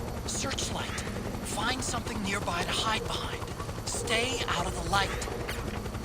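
A helicopter's rhythmic rotor thumping from the video game Metal Gear Solid 4: Guns of the Patriots runs continuously beneath a person talking throughout.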